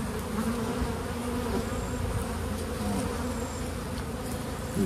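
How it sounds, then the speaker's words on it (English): A steady, dense hum of many honey bees buzzing close by on a hive frame during inspection, continuous and even throughout. "Plenty of bees on it."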